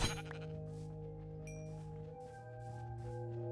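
A Minecraft sheep bleats in a sustained, wavering tone over a steady hum of game sound, with no talking.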